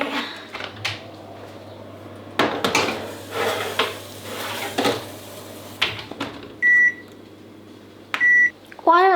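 Home kitchen sounds as baking goes into the oven: clattering pans and tray handling, then a series of clear electronic oven beeps near the end, with a person talking in between.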